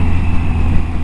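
A Triumph Tiger 800 XCA motorcycle engine pulls hard in fourth gear, a loud steady low drone with a continuous hum and no break.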